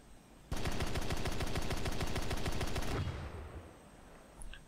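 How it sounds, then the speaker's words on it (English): Four 30mm Type 5 cannons on a Japanese R2Y2 KAI V3 jet in War Thunder fire a loud, rapid sustained burst of about two and a half seconds, heard from third-person view, then fade into engine drone. "four 30mm Type 5 cannons, which we're going to fire off in both the third-person view and the cockpit to see how they sound"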